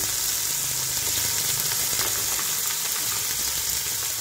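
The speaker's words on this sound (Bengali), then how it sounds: "তাতে একটু অল্প নুন মাখিয়ে এবারে আমি এতে তেলে ছেড়ে দেব।" Lightly salted aubergine and broad beans dropped into hot oil give a loud, steady, close sizzle that fills the whole stretch without any voices.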